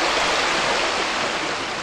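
A moorland river, the Dean Burn, flows past in a loud, steady broadband rush of water, close and continuous, with no voices.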